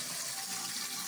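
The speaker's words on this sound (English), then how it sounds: "Yeah, that's the water." A bathroom tap runs steadily, water rushing into the sink as a continuous broadband wash with no voices over it.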